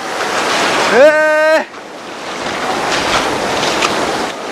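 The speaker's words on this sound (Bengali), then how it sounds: "এই সেই তাজপুর সমুদ্র বীচ" Sea waves at Tajpur beach make a continuous broadband surf roar with wind, close and loud. A brief rising tonal sound cuts in near the start.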